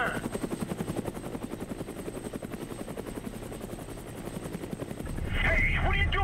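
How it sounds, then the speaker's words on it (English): Helicopter gunship in the Prototype 2 video game, its rotor chopping steadily throughout with rhythmic pulses, rising to a louder, denser roar near the end as other game effects join; talking runs underneath. "Just fly the fucking helicopter!"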